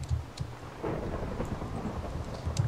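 Thunderstorm in the video game Minecraft: a close rolling thunder rumble over steady rain, with rain patter continuing throughout.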